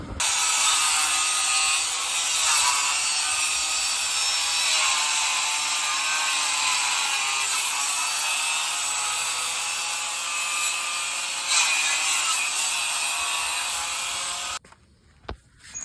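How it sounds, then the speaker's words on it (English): Brake dust shield being trimmed to clear a new dual-caliper e-brake on a drift car, a steady, continuous harsh grinding or cutting noise close by for about fourteen seconds, stopping abruptly near the end with a few small clunks. "the next step is going to be to trim your dust shield to fit the new e-brake"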